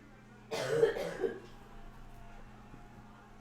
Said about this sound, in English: Cough there.